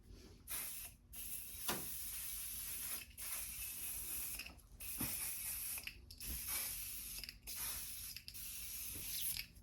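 A can of quilt basting spray hissing out in repeated bursts separated by short gaps, close and fairly quiet, with a faint steady hum beneath.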